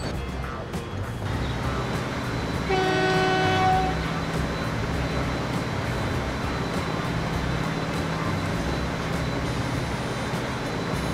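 A train in the video game Transport Fever rumbles steadily along with a brief horn blast early on, its running noise continuing evenly afterward; no voices.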